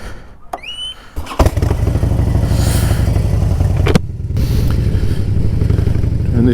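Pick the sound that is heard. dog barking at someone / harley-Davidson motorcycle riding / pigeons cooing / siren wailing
harley-Davidson motorcycle riding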